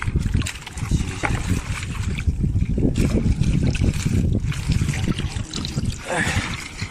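Seawater sloshes and splashes steadily at the shore while a freshly hauled crab-trap catch is rinsed. Loud, close watery churning runs throughout with no pauses.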